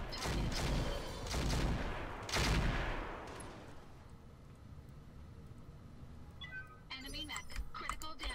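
Mech weapons fire in the Roguetech video game as several heavy, booming volleys crash in succession and then fade, leaving quieter mechanical clatter while a voice talks over it.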